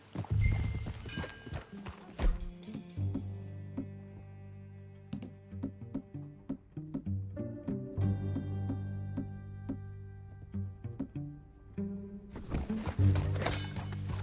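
Rhythmic clip-clop of horse hooves at a walking pace while riding in the video game Red Dead Redemption, close and clear, with occasional thuds and a few pauses between steps.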